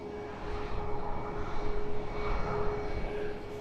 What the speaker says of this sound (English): This is Ryanair flight 5160. Heading off to Sofia. It's a 737 MAX 8.